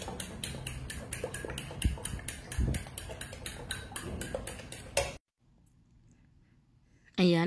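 Eggs and white sugar whisked in a bowl for puto cheese batter, with a fast, steady run of close metallic clinks for about five seconds. The clinks stop abruptly, followed by near silence and a short burst of voice at the end.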